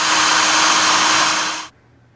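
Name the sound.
power drill drilling holes in box truck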